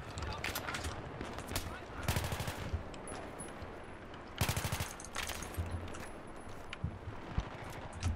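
Battlefield 3 gunfire, with bursts of automatic rifle fire and scattered single shots at moderate level across a busy multiplayer battle, while voices talk throughout.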